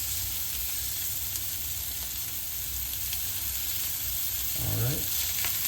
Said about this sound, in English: we just want to kind of rub them around in that olive oil, make sure we get a little bit of fat between the meatball and the pan